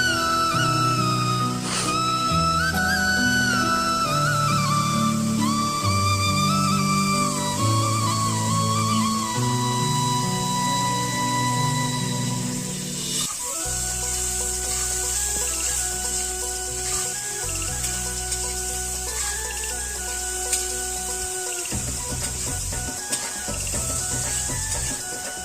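Potatoes go into a pan of frying spice paste in a village kitchen, bringing a bright crackling sizzle under steady tonal music that runs throughout, with the frying hiss growing denser and continuing close by after the addition.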